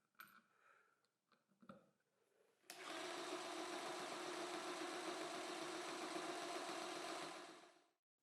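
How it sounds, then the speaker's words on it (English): A jigsaw clamped in a homemade wooden holder, shaking a small plastic spray can, starts with a click and then buzzes as a loud, steady, rattling drone for about five seconds before cutting off. Faint handling knocks come before it. "It also allows me to shake small plastic cans."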